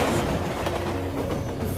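A train of wagons rolls along rails through a tunnel, a steady, dense rumble with faint clacking that continues throughout without any voices.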